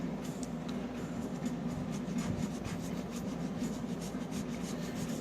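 Close, steady rasping scrub on a 1989 Nintendo Astyanax cartridge circuit board, worked over the silkscreen to clear corrosion and rust. The friction noise runs continuously and evenly, with no talking.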